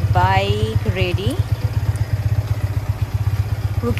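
A freshly serviced motorcycle engine idles close by with a quick, even chugging pulse throughout, while a voice speaks briefly over it near the start.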